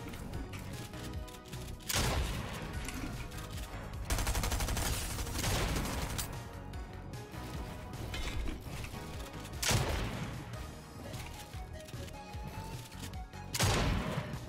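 Rapid bursts of submachine gun fire in a video game come in several loud volleys and clusters, broken by brief lulls and mechanical clatter, with a steady game soundtrack underneath.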